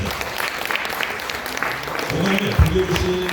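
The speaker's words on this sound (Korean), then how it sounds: "큰 박수로 초대하도록 하겠습니다" Audience at an opening ceremony applauding to welcome a poet to the stage, fairly loud sustained clapping with some voices and a low thump mixed in near the end.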